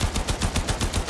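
Rapid automatic gunfire in Warframe, a steady burst of about ten evenly spaced loud shots in just over a second.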